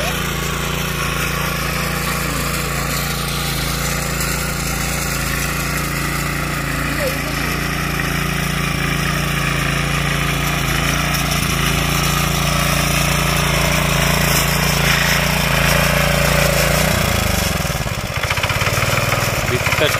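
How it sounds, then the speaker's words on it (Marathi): A tractor engine ploughing a rice field in Konkan during sowing, a loud steady mid-pitched drone that shifts near the end, with voices faintly underneath. "या दुसरा ट्रॅक्टर."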